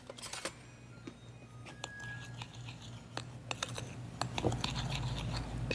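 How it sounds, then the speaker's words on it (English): Sugar, baking powder and flour being stirred together in a bowl, scattered scraping and ticking strokes that grow denser and louder toward the end, close by. "I have here some sugar, some baking powder, some flour. I'm gonna stir all that together."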